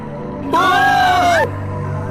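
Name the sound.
cartoon characters screaming at severed hand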